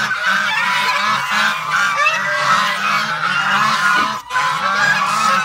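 A flock of geese honks close by, loud and continuous, with overlapping nasal calls in rapid rhythmic bursts and only a brief dip before the clamour resumes.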